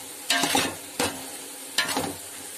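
Ingredients for chicken biryani sautéed in a pan, three distinct scraping stirs of a spatula with brief sizzling bursts between short quiet gaps.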